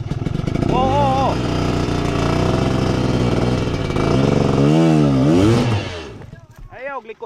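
A motorcycle climbs a steep, rocky uphill trail, its engine loud and close as the revs surge, dip and rise again, then cut off near the end; voices are faint underneath.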